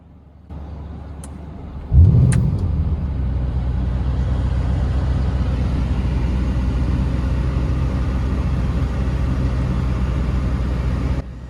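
A 2021 Audi TT RS engine fires up with a sharp bark and then settles into a steady, low idle rumble that continues evenly, heard nearby.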